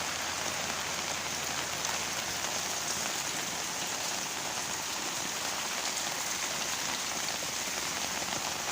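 Heavy rain pours steadily, a constant dense patter on surfaces from start to finish, with no talking.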